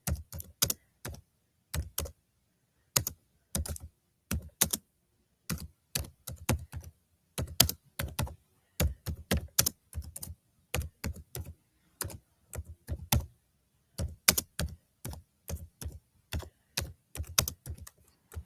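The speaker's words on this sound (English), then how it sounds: "Typing one-fingered." Irregular one-finger keystrokes tap a computer keyboard, each press a distinct click with uneven gaps and short pauses, steady and close with no talking.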